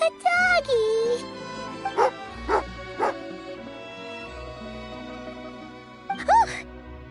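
Tagarin, a companion dog in a video game, gives a string of sharp barks and yips with a whimpering edge, loud and close, spaced across the scene over soft background music and a voice.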